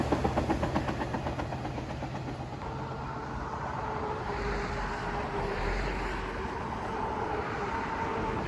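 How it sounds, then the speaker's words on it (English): A Long Island Rail Road Montauk Branch diesel train rolls past close by, rhythmic wheel clatter and engine rumble loud at first, then settling into a steady, sustained roar of passing cars. "we catch Montauk Branch train number 78 passing through on its way to Patchogue"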